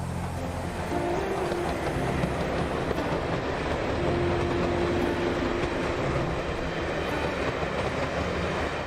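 Trains run along a branch railway line beside the main line to Eridge, making a steady rumbling roll with a faint sustained tone. The rumble carries unbroken throughout, with no voices.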